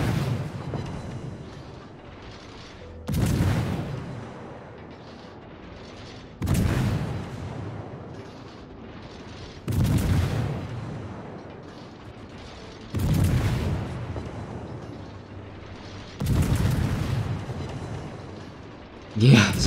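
A torpedo strike sinking an enemy battleship in the naval game World of Warships, one of several deep booming impacts that repeat about every three seconds over a low rumbling game soundscape, loud and close with voices talking throughout.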